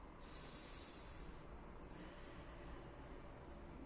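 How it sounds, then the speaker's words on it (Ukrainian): Quiet, steady breathing in and out through the nose during a breathing exercise, soft and close with a faint airy hiss and no talk. "Тепер зробимо ще декілька вдихів і видихів носом звичайних."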